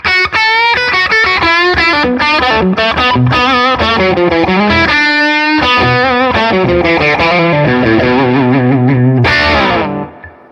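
A Fender American Professional Stratocaster on its Shawbucker pickup plays a fast, busy electric guitar run with driven, effected tone, loud and close, ending in a sudden bright flourish before cutting off; no one speaks.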